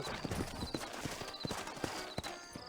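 Horse hooves clip-clop in a steady, uneven rhythm of sharp thuds in a Red Dead Redemption town street in New Austin, close and fairly loud over faint background sound.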